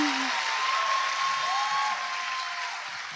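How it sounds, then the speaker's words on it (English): A large live audience at a podcast taping in a Toronto theatre applauds, a steady roaring wash of many hands clapping that holds at even loudness and tapers slightly at the end. "There's too much clapping."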